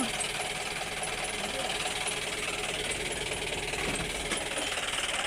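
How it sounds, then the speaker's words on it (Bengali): A diesel engine idles in a 2021 Mahindra pickup with a loud, close, continuous rattling clatter that stays even throughout. "এই যে দেখতে পাচ্ছেন গাড়ির ইঞ্জিন সাউন্ড কন্ডিশনটা"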